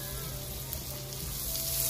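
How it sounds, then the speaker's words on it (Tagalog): Butter melts and sizzles in a pan for a chicken à la king sauce, a constant close crackling hiss that grows slightly louder toward the end. "magtunaw lang tayo guys ng butter para sa ating ano,"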